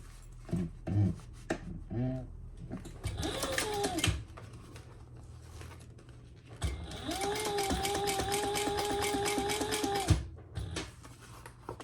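A sewing machine top stitches a pouch lining for a tulip-shaped pouch: a short whirring burst of rapid needle strokes, then a longer steady run, close and moderately loud, with faint handling noises around it.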